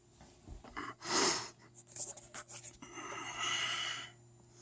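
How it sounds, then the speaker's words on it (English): A close, breathy purr rumbles low and steady, with rough snuffly breaths rising and falling in a loose rhythm. "He's purring."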